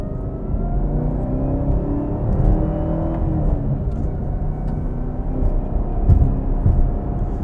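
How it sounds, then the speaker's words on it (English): A 2023 Chevy Camaro ZL1 1LE pulls hard on a back road, its engine roaring loud and close from inside the car as revs climb through the gears, with deep rumbling between shifts and no talk. "have some fun ripping through the gears"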